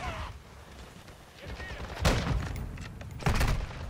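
Gunfire in a Call of Duty: Modern Warfare II team match comes in two sharp bursts of shots over a quieter stretch of game ambience.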